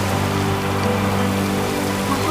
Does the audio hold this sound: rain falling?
yes